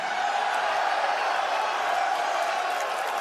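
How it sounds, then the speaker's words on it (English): A rowdy crowd at a live WWE wrestling event, a dense, steady roar of cheering voices filling the whole stretch without pause. "rowdy crowd right here"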